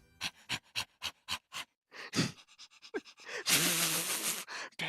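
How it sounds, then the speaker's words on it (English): Rhythmic panting breaths from a character voice in a visual novel, a fast series of sharp gasps that turns into louder, heavier breathing and moaning. "Panting intensified."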